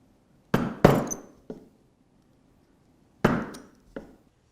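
A wood chisel strikes and pares at a workbench while a Moxon vise is being made: sharp, close knocks arrive in two small clusters separated by a pause, each tap trailing off quickly.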